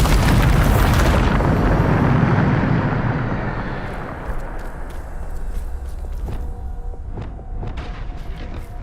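A Bombarda blasting spell from Hogwarts Legacy bursts into a loud, rumbling explosion that fades over several seconds, followed by lighter scattered clatter and footsteps.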